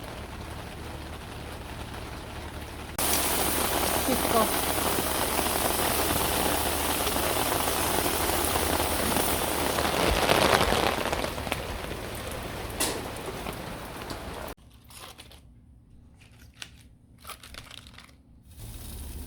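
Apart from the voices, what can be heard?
rain falling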